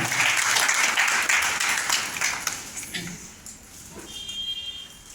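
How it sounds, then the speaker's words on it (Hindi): Audience applause at a prize-giving ceremony, loud and dense at first, then thinning and fading into a scattered patter with a faint electronic tone near the end. "तो साधना पोर्ते मैम के लिए जोरदार तालियां हो जाए"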